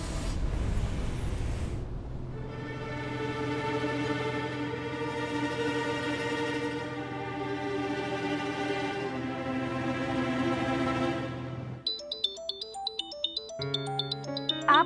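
A phone ringtone plays a repeating melodic chime for several seconds, followed by a brighter electronic tune of quick notes, with no talking.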